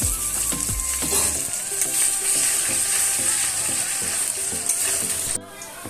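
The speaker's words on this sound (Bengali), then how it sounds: "আদা দিয়েছিলাম যে আদাটা কিন্তু ভাজা ভাজা হয়ে গেছে আলুর লগে" Ginger paste fries with potatoes in a pan, a loud continuous sizzle with steady stirring scrapes and clatter throughout that cuts off abruptly just before the end.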